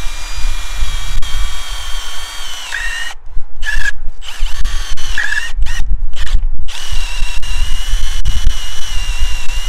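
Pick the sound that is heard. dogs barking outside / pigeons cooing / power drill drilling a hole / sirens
power drill drilling a hole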